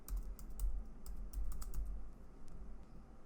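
Fingers typing on a computer keyboard, a rapid irregular run of close key clicks in bursts with short pauses, no speech.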